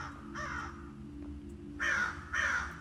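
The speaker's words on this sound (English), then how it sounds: "Damn crows." Harsh crow caws sound in a video game graveyard, one call early and then two louder ones close together near the end, set against a low, steady ambient hum without any talking.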